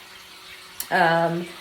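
Water pours from a hose or tap into an Asian water monitor's enclosure pond, starting abruptly after a brief spoken word and running as a steady, close gush.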